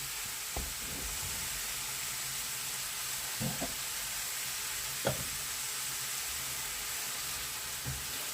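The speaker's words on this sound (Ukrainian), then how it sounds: "Нам не потрібно, щоб грибочки парилися, нам потрібно, щоб вони гарненько посмажилися." A quiet, steady frying hiss of mushrooms fills the pan, broken by a few soft clinks and taps as they are stirred.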